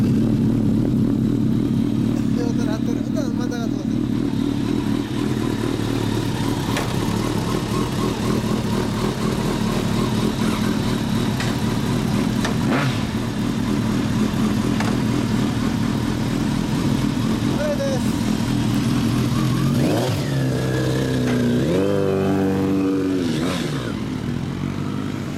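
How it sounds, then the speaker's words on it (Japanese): A 2016 Kawasaki ZRX1200 DAEG Final Edition motorcycle with a Trickstar exhaust idles close and loud in a steady throb, then revs up in rising bursts near the end. "トリックスターのエンジン音"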